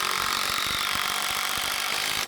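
A ratchet driving a lag screw through a surface-mounted post into decking, a rapid close run of clicking pawl ticks for about two seconds before stopping abruptly.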